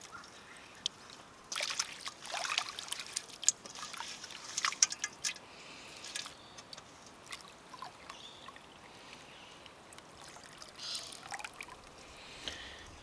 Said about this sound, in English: Give them a nice rinse.